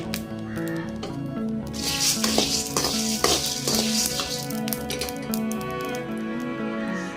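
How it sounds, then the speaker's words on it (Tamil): Coriander chutney ingredients fry and get stirred in a hot pan, giving bursts of hissing sizzle and scraping amid steady background tones that resemble birdsong. "நல்லா பொரியுது பாருங்க"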